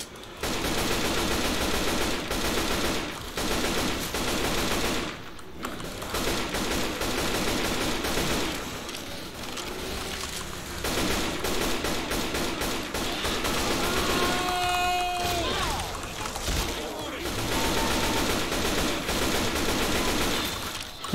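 Sustained rapid AK-47 automatic fire in Left 4 Dead 2, loud and nearly continuous for most of the stretch with a few brief pauses, layered over dense game action.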